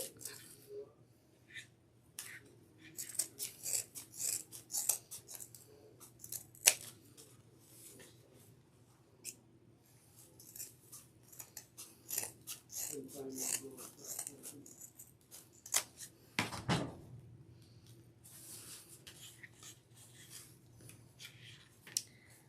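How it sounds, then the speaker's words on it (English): Scissors snipping through deco mesh rolls while making a bee sunburst wreath, giving repeated short crisp cuts and rustling of the mesh throughout, close and fairly quiet. "I'm just going to fold them in half and cut up towards the wired edge"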